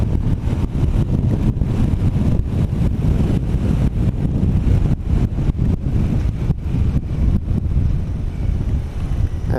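Loud, constant wind buffeting roars across the microphone from a moving Royal Enfield Continental GT650 motorcycle, with low rumbling gusts and no talking.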